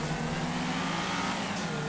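An F620 sports car in GTA 5 accelerates with a loud, steady engine roar held close for just under two seconds, with no talk.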